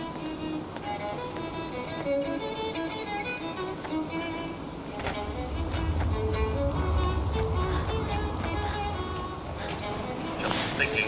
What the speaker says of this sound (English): Just thinking how wonderful it'd be to get out of this infernal rain.